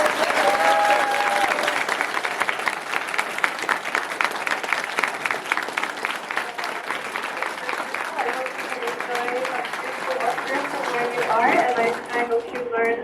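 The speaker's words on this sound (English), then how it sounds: "big round of applause." Sustained applause from an audience at a youth amateur radio camp, broad and continuous clapping with scattered cheers, thinning near the end as voices begin to come through.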